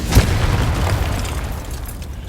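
A Confringo blasting spell detonates in Hogwarts Legacy, giving one sharp, loud boom at the start that rolls into a low, rumbling decay across the rest of the moment.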